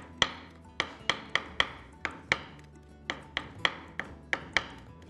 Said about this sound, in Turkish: Biraz daha inceltiyoruz sarımsağımızı.